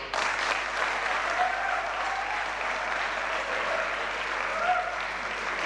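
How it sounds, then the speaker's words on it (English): Students give faculty members a round of applause at an institute event, heard as steady, even clapping that fills the hall from start to finish with no talk over it. "So I would like all the students to give the faculty a great round of applause."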